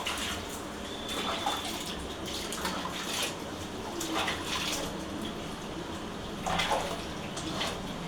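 Water pours and splashes over a pet cat named Golu during a home bath after shampooing, a steady wash of running water with brief louder gushes, close by and with no talking.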